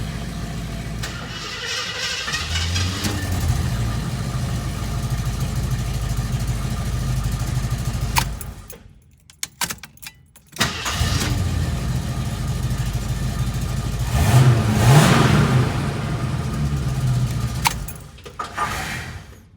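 A 1973 AMC Hornet engine with a carburetor and timing that needs adjusting idles with a low rumble, cuts out briefly, restarts, then revs up and settles back, with an occasional pop; loud and close, no talking.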